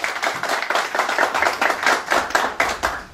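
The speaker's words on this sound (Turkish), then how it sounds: "güçlü bir alkış efendim" An audience at a breakfast gathering of Mardin community association members in Zeytinburnu claps in strong rhythmic unison, a close, loud series of sharp beats that swell and repeat steadily without speech.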